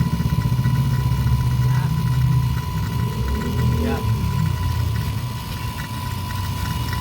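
A vacuum pump drones with a steady hum during a compressor replacement and Freon 134a recharge on a Fujidenzo refrigerator, and someone talks over the constant sound.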